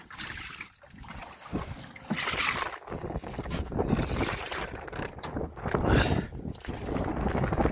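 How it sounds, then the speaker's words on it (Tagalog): Strong wind buffets the microphone in heavy, roaring gusts outdoors, with rushing noise that swells and drops over several seconds. "Lakas na ang hangin."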